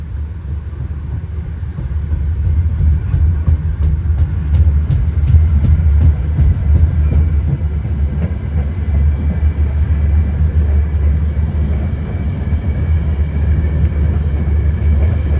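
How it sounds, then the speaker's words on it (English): A Metro-North Danbury Branch commuter train runs southbound toward Grand Central with the employee tribute locomotive trailing, giving a loud, steady low rumble and rolling clatter that holds for about fifteen seconds, with no talking. "It was a shot of Danbury Branch train number 1819 headed southbound towards Grand Central Terminal with the employee tribute locomotive trailing."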